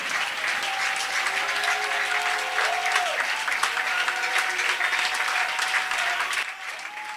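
A church congregation claps and cheers to acclaim the Lord during a French-language service, with dense sustained applause throughout and a sung or called voice faintly over it.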